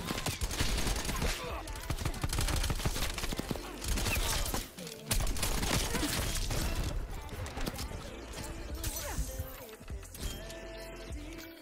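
Dense, rapid bursts of AMP63 pistol fire in Call of Duty rattle almost nonstop, loud and close, with a brief gap partway through and a voice faintly underneath.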